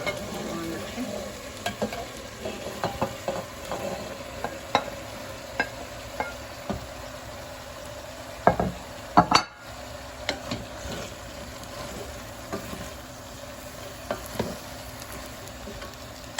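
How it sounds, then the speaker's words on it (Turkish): Green beans fry in a pan with tomato and onion, making a steady close sizzle broken by repeated scrapes and clinks of a stirring utensil, with no talking. "Fasulyemi 15 dakika böyle kavurdum yanında."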